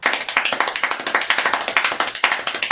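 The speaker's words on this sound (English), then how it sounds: "It was like somebody was clapping like 25 million miles an hour." Extremely rapid hand clapping, a dense, even stream of sharp claps fired off many times per second, loud and close with no pauses.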